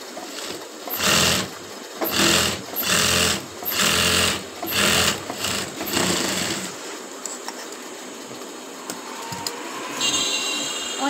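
A sewing machine runs in several quick bursts, stitching the sleeve cuff of a kameez. Each burst is a loud, close, rapid mechanical chatter, separated by short pauses, and the machine then falls quiet into faint room noise.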